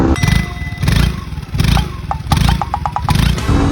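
Motorcycle with an ESP engine and piston oil-jet cooling, running steadily and loudly up close in pulsing bursts, with a few light metallic dings and no talk.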